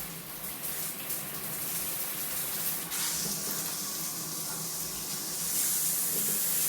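Water sprays steadily from a dual shower head combo with a black face, a continuous hissing rush that carries on unbroken and grows slightly louder and brighter near the end.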